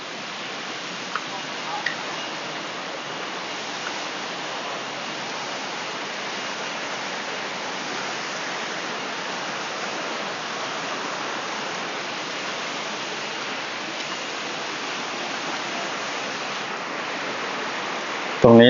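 Tat Yai waterfall in Phetchabun, Thailand, pours in a steady, dense rush of falling water, broadband and unbroken throughout at an even level, with a brief louder bump at the very end.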